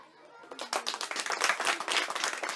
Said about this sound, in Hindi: सही है, ताली ताली।